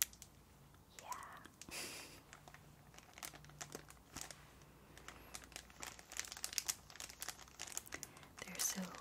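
A protective plastic sheet over stickers crinkles softly and close up in irregular rustling bursts, with gentle whispering throughout.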